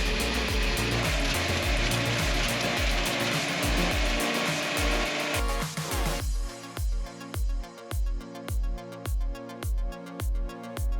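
A homemade mulcher drum driven by a strimmer engine shreds material under test, a dense loud grinding roar for about five seconds, then a string of evenly spaced heavy chopping bursts with brief gaps between them.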